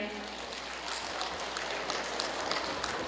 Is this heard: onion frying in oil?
no